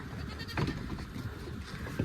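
Goat kid bleating in a village yard: two short bleats, one near the start and another near the end, fairly close over a low background murmur.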